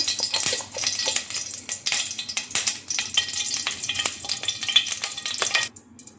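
Ghee heats in a pan over a low gas flame for a prawn ghee roast, making a close, busy sizzle broken by sharp stirring scrapes and clicks that stops abruptly near the end.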